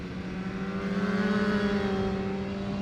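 A sportbike engine drones steadily on a race track, a sustained tone that rises slightly as the rider rolls on the throttle, heard alone at moderate distance.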